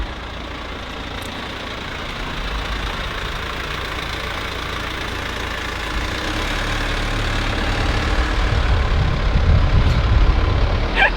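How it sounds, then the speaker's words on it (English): A van's engine idling and creeping through heavy stop-and-go traffic, a steady low rumble that grows louder and rougher toward the end, with no voices. "we have hit heavy traffic"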